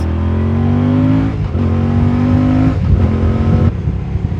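A 2024 Moto Guzzi Stelvio touring motorcycle accelerates hard, its loud, close engine note climbing through the gears with brief dips at each shift.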